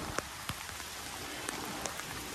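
Heavy rain pours down in a constant dense hiss, with sharp drops tapping nearby surfaces at irregular moments and no voices over it.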